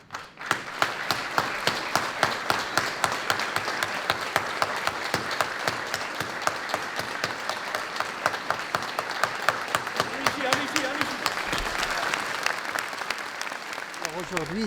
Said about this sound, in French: vous allez tous applaudir, s'il vous plaît, pour ces gens-là qui sont morts pour nous